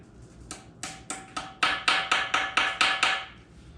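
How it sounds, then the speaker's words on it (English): Dowel pins being tapped into an engine block with a hammer: about ten sharp, close metallic taps, sparse at first and then coming in a quicker, steady rhythm with no talking. "Just set them in, give them a little tap."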